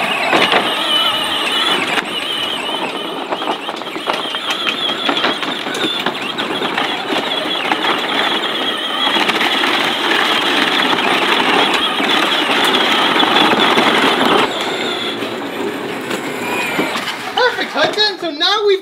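A tractor strains to pull a big new trailer, with a loud continuous engine roar and high metallic squealing that persists throughout and fades near the end.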